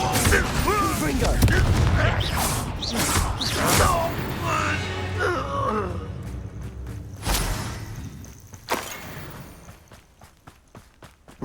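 Confringo fire spells burst with booming explosions in Hogwarts Legacy amid combat clatter, while a character shouts incantations over the blasts; the action thins out into sparse impacts toward the end.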